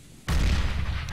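A flashbang grenade goes off in a tactical shooter game: after a quiet moment, a single sharp burst erupts into a loud, sustained booming roar that fills the rest of the moment.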